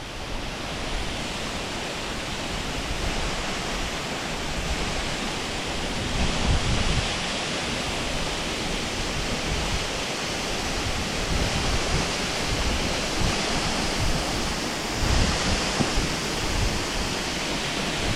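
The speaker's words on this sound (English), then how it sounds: "I can feel the water splashing up towards us there now." A waterfall on Whernside roars steadily as it crashes into a splash pool, a dense, constant wash of splashing water with no voices.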